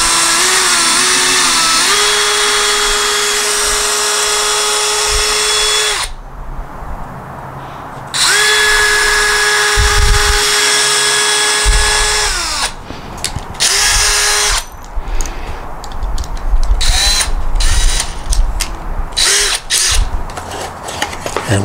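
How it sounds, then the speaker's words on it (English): A power drill whirs loudly in several bursts while drilling through wood for a raised bed planter box, pausing between runs, with the motor pitch dropping as it bites into the wood and some clattering near the end. "And now we're going to drill it through a little further."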